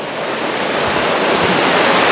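A river flows past a riverside camping spot near a waterfall at Pos Beswok, a loud continuous rushing wash of water with no breaks.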